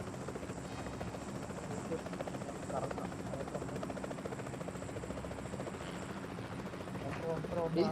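A steady helicopter rotor drone in the game PUBG fills the scene, constant and fairly loud, with a voice talking over it.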